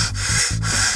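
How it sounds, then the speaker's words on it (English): A beard is scratched close to the microphone with rhythmic rasping rubs, about four quick strokes in a second. "I was just itching my beard"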